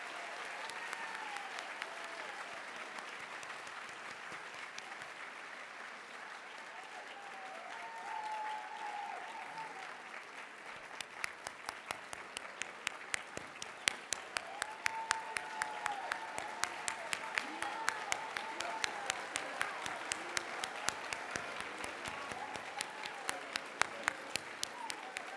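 Sustained applause from an audience honoring fine arts hall of fame inductees at an induction ceremony, a dense wash of clapping that grows crisper and louder midway, with scattered cheers and crowd murmur underneath.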